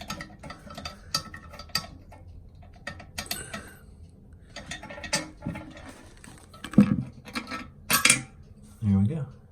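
Small screws on a toilet tank, only hand tight, being turned out by hand: light ticking, scraping and metallic clicks in irregular bursts, close and fairly quiet, with a couple of louder clunks near the end.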